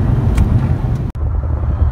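A 2005 Chevrolet Silverado pickup cruising down the road, a steady low engine and road rumble heard from inside the cab with a brief dropout midway.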